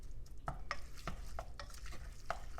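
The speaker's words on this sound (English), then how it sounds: "just stir it up. Make sure it's mixed well." A spoon stirs chili in a cooking pot, scraping and clinking in an uneven rhythm of about seven soft strokes, quiet and close over a low background hiss.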